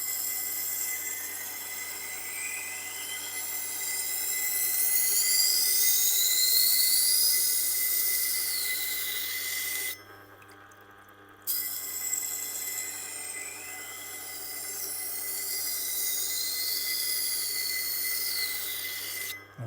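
Wusthof knife edge ground on a Tormek sharpener, with the rounded edge worked up against the bolster: a steady high whine and rasp that stops for about a second, then picks up again, over a constant machine hum.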